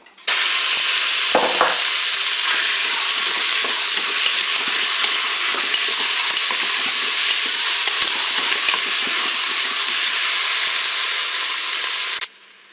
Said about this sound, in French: Le préchauffage est terminé, je vais faire revenir mes morceaux de viande.